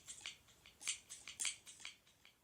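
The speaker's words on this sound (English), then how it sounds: "this is the scissors." Shoe-trade scissors snipping in a quick, uneven series of close, crisp cuts with short pauses between them and no voices.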